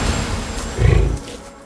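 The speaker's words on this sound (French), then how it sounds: "ces lions sont trop près pour qu'elle soit à l'aise" Lions roar near a cheetah feeding on a topi carcass in the wild, a low rumbling roar that swells midway and fades, close and alone without talk.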